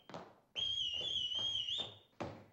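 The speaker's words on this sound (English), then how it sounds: "For example, the bosun's whistle." A bosun's whistle sounds a shrill, steady high note held for over a second and then bent up sharply at the end, framed by short clattering knocks before and after.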